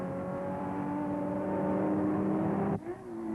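Race cars in the 1965 Bridgehampton 500 sports car race, including a Lola T70, 427 Cobra and 4-liter Ferrari prototype, roar past on track with loud sustained engine drone, abruptly cutting off near the end as one car pulls away.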